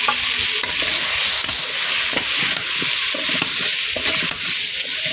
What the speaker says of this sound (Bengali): বড় কড়াইটাতে এখন ভাজে নেব কুমড়া, হলুদ আর লবণ দেওয়া কুমড়াটা